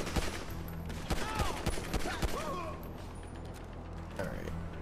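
Bursts of gunfire in GTA 5 Online, fairly faint and rapid, mixed with game sounds and someone talking over them.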